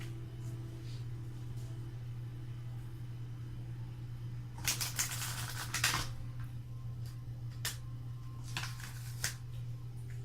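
Tarot cards are shuffled in quick riffling bursts, close and fairly quiet, over a steady low hum.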